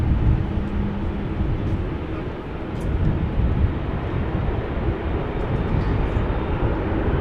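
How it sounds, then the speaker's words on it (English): An Airbus A340-600 airliner taking off at Amsterdam Schiphol, a loud continuous roar of jet engines that stays strong and steady from start to finish, close and alone with no talk. "pretty soon we are going to see it take off, the A340-600"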